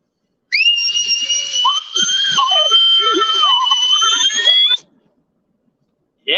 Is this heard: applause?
no